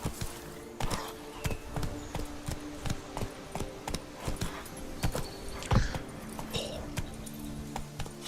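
Horse hooves clip-clop in The Witcher 3 video game, a steady run of sharp, close knocks repeating at a trotting rhythm, with a voice talking now and then over them.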